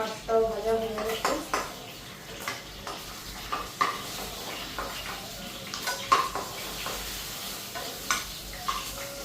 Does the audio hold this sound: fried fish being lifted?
yes